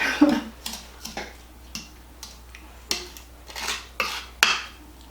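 A spoon stirring a cinnamon spice mixture in a bowl for a cinnamon roll cake, giving a series of separate clinking, scraping strokes at an irregular pace, close and fairly quiet, with no talking.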